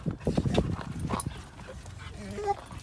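Dogs bark and whimper close by in a short burst of sound, and a person talks alongside them.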